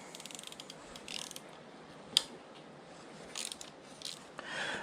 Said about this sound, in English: you need the Torx T30 to loosen